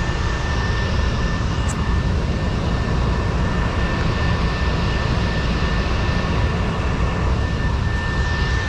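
Interior of a moving rail car carrying only a couple of riders, a loud, steady, close rumble and hum with a faint high whine throughout and no talk.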